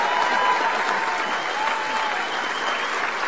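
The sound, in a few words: cheer squad applauding Daniel at awards event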